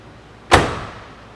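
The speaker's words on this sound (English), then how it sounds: "I'm going to prove it to you with the sound of the door." A 1968 Pontiac GTO convertible door swings shut with one solid, close thunk that rings out briefly and fades, with no voices over it.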